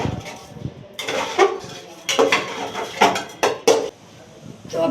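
Spoon clattering and scraping against a metal pot while coriander is stirred into a cooked dish, irregular knocks and scrapes close by at moderate loudness, with no voice over it.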